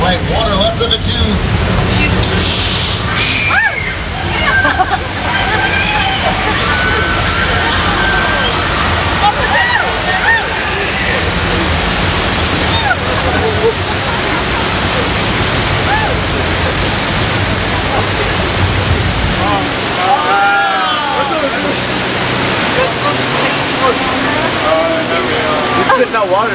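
Heavy rushing water roars and splashes continuously, loud and close, with people shouting and screaming over the torrent on the Universal Studios tour ride.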